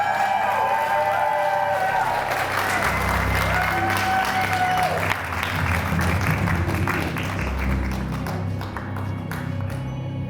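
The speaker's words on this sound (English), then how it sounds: "accept this huge round of applause" A theatre audience at a live stage show claps in sustained applause that fills the room for the whole stretch, a dense, steady wash of clapping with a few louder moments.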